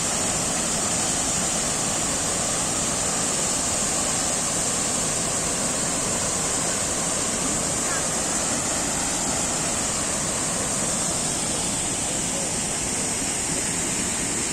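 Roaring rush of the Yerköprü waterfall, water pouring over boron-rich mineral deposits; a dense, steady broadband torrent that stays loud and unbroken throughout, with no voices.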